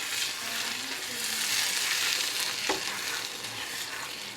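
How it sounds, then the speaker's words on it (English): Mixed vegetables are stirred in a pot of rice, a soft steady sizzle with scraping stir strokes and one sharp clack near the end, close and fairly quiet. "So I'm just stirring the mixed vegetables up"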